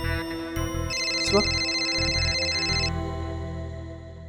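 Phone ringtone playing in a Hindi TV drama scene, a steady electronic melody ringing loudly over background music for about two seconds, with brief speech near the end.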